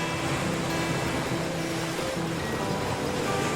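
River water rushing in the video game The Flame in the Flood, a big open river giving a steady, dense wash of flowing water with no pauses, fairly loud and continuous throughout.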